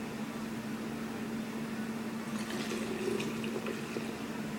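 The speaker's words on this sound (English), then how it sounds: "I'm just going to take this funnel, set it in this container right here, and just pour it into the bottle" Liquid pours through a funnel into a bottle as a steady, soft trickling wash with a faint hum beneath, continuous throughout without talk.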